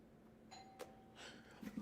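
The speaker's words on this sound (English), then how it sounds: "Oh, somebody's ringing my doorbell." A doorbell chimes faintly indoors, a few soft tones against quiet background, heard from a distance.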